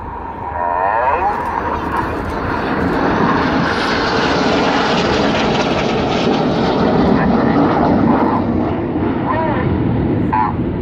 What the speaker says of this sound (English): Now here's the 5th jet He's going to roll around them a dozen times.